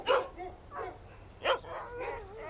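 Sled dog Buck whimpers and yelps in several short bursts, close and moderately loud, with brief pauses between cries.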